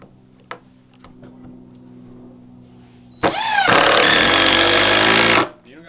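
Power drill driving into wood while a workbench is built, a loud sustained whir that starts suddenly, holds steady for about two seconds, then cuts off, following a quiet stretch with a few faint ticks.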